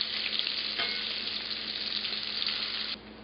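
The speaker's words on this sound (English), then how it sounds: "this is really hot, so be careful of the oil jumping up at you" Squash frying in hot oil beside a pot of gnocchi, a dense, even sizzle that holds steady for a few seconds before dropping off abruptly at the end, with no voices.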